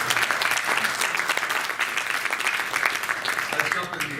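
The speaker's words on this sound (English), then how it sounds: "Give Josh a round of applause." An audience at a motivational talk applauds a volunteer after a magic trick, brisk crowded clapping with some cheering, loud and continuous, with a voice faintly mixed in.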